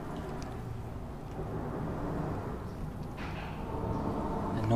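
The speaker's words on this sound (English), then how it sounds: "The noise you're hearing is cars going above us." Traffic rumbles continuously overhead as cars cross a bridge above a creek, a low, muffled roar heard from underneath that swells slightly toward the end, with no talking.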